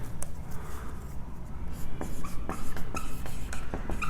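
Black pen scratching out dimensions on paper during a class 10 maths lesson, a series of short, crisp strokes and taps at close range with no talking.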